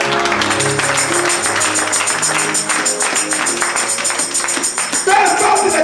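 Church congregation applauding and cheering in acclamation of Jesus during a pastor's sermon, a dense continuous wash of clapping and voices under music, loud and sustained throughout.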